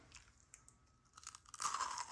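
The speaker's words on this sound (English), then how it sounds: "I hear the crunch." Crisp crunching as someone bites into Christmas cracker candy with a cracker base, peanut butter candy and chocolate topping, a few small snaps building into a louder, sustained close-up crunch of chewing.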